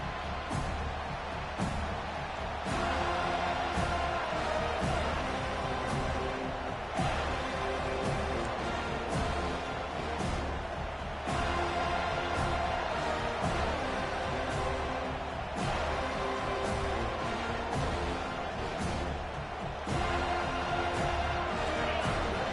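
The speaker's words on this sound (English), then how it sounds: "this home crowd is fired up and ready to make a difference today" A home crowd at an NCAA college football game keeps up a steady, dense roar through the stadium just after kickoff, loud and continuous throughout, with faint cheering swells and a commentator's voice layered over it.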